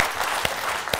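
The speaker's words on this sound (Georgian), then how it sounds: "აპლოდისმენტები" Studio audience clapping on a Georgian comedy game show, a brief burst of steady applause with a couple of sharper claps standing out.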